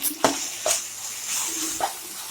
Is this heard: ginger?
yes